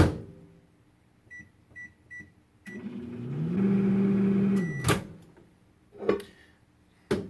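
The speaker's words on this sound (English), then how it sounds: "Pop that in the microwave. Get that started." A microwave oven hums steadily for a couple of seconds after a few short beeps and a door clunk, with a loud click and thumps as it stops.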